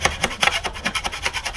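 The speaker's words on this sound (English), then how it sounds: "So just scrape a little bit more of it over here." A hand scraper rasps barnacles off a sailboat hull in quick, rhythmic back-and-forth strokes, about a dozen gritty scrapes in under two seconds, close and fairly loud.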